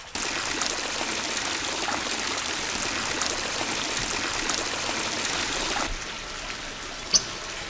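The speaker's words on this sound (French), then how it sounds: "Je viens de remettre la pompe immergée en route, qui va permettre de pousser toute la couche flottante, le biofilm de spiruline, vers ma boîte." Submersible pump running in a spirulina culture tank, pushing water along with a continuous trickling, rushing flow that softens near the end, where a brief sharp click stands out.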